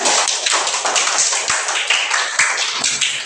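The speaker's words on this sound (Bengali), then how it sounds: "আফসানার জন্য জোরে একটা হাততালি দাও তো" A classroom of students claps loudly together for a classmate, a dense, steady burst of many hands ringing out for about three seconds with a few sharper thumps mixed in.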